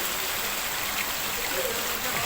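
Steady rain falls over a rural village home, a dense, even hiss of water with no breaks, close and fairly loud throughout.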